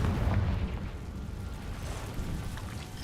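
A Confringo blasting spell goes off in Hogwarts Legacy, giving a loud, close, rumbling explosion with a heavy low boom at the start that rolls on and decays over the following seconds.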